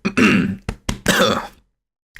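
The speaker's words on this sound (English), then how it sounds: "clear my throat" Someone clears their throat with several rough, rasping bursts close up, a long one, two short catches, then another long one, followed by silence.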